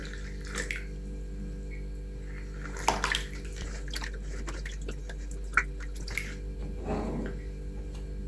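About 200 ml of warm water is poured into a yeast dough mixture of warm milk in a kitchen, a soft trickle with drips and a brief gush near the end over a low steady hum.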